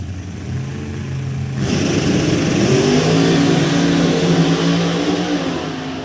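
Supercharged drag racing cars, including a Chevy with a side-mounted centrifugal supercharger, launch from the starting line at a drag strip, a loud engine roar that surges and rises in pitch as they accelerate, heard without talk.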